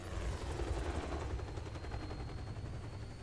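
Helicopter in the video game Just Cause 4, a steady loud rotor drone with a dense low-end throb mixed with bursts of game gunfire, sustained throughout without talk.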